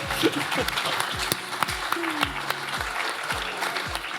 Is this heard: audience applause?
yes